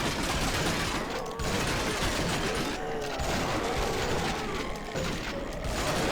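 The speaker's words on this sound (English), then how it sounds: "Just about to hit much of the gunfire." Dense, continuous gunfire from the zombie shooter game Zombie Village, a steady wall of rapid shots and explosions with no pauses.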